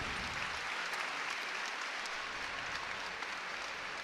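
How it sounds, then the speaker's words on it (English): Steady crowd applause fills an arena during a college gymnastics meet between North Carolina and NC State, a continuous even wash of clapping from many hands throughout. "she gets a hand from this crowd"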